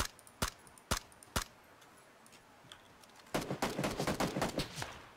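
Gunfire in the battle-royale video game PUBG: three sharp, isolated shots spaced about half a second apart, then after a short pause a dense rapid burst of overlapping shots and impacts, with no voices.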